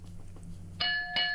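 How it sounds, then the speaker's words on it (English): A studio bell on a radio show strikes twice in quick succession, two bright, ringing dings that stand alone over a faint low hum. "Do we have the bell, Dave?"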